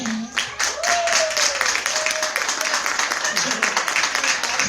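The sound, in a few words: audience applause for Shavina Richardson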